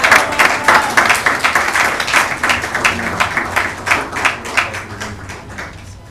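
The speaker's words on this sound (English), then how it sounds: "Let's give him a warm round of applause." A mosque audience in New Orleans breaks into dense, sustained applause, many hands clapping together at close range, holding steady for several seconds before thinning slightly toward the end.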